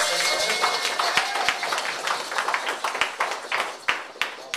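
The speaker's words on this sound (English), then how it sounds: "Let's give ourselves a hand clap" A political rally crowd claps for itself at a campaign announcement, dense overlapping hand claps forming steady applause with sharp individual claps standing out, fairly close and sustained for several seconds.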